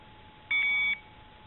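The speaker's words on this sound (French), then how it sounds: "j'allume mon détecteur" A carp fishing bite alarm is switched on by the water and gives one short, clear electronic beep lasting about half a second over quiet background hiss.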